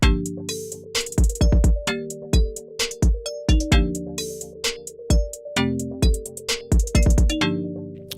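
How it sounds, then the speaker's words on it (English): A trap beat with punchy kicks and melodic tones, crisp hi-hats ticking throughout and longer open hi-hat hits sizzling between them in a steady rhythm. "you'll hear the subtle difference of the open hat here"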